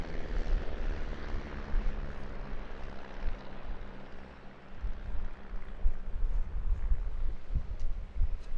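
A Stampe biplane flies aerobatic manoeuvres at the Eastbourne International Airshow, its propeller engine a steady, fairly loud drone that swells and fades as it passes, with no talk over it.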